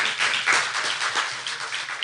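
A forum audience gives a short, steady burst of applause for a government minister, a uniform hiss of many hands clapping with no standout individual claps.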